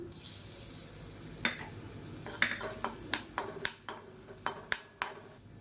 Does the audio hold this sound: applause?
no